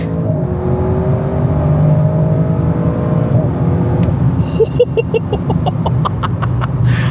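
Audi RS6 Performance accelerating hard, a loud sustained engine roar with rising pitch, then a sharp shift partway through as the revs climb again with a crackling, whirring edge, close and continuous.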